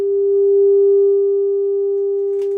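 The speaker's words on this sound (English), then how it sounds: "let's run a 400 hertz signal through the front" A steady, pure 400 Hz test tone through a 1964 Fender Bassman amplifier holds at one pitch for a couple of seconds, loud and clean, with a faint click near the end.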